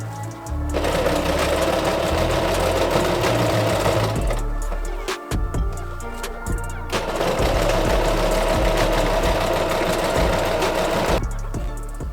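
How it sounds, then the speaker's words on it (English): Sewing machine stitching darts into a cosplay bodice, running in two long steady bursts of rapid mechanical whirring with a brief pause between, close and fairly loud. "I prefer sewing my darts from the waist up to get a perfect edge"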